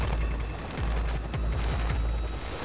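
A search-and-rescue helicopter's rotor thumps rhythmically, with a whining engine tone over it, steady and moderately close, in snowy backcountry mountains.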